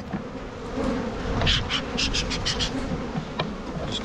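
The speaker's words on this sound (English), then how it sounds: "There's some bees on this one." Bees buzz up close around hive frames in a nuc yard, a dense, wavering drone, with several louder passes as individual insects fly near.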